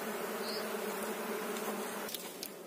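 Honeybees buzz steadily around an open hive while a beekeeper handles the frames during a July swarm split, a dense continuous drone with a few faint clicks near the end and no talking.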